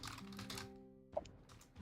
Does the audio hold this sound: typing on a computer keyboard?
yes